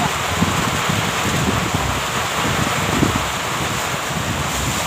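Storm wind and heavy rain battering a bamboo-roofed hut, a constant loud roaring wash with gusty rumbling and microphone buffeting, no voices heard.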